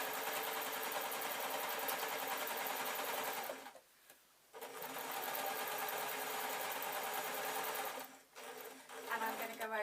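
Modern sewing machine stitching a purple bat wing dress, a fast continuous mechanical whir that stops briefly twice before starting again, close and steady.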